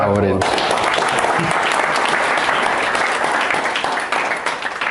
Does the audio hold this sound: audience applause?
yes